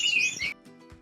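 Bright, dense chirping and twittering of canaries in an aviary bird room fills the first half, then fades to scattered softer calls and faint tones, like many small birds indoors.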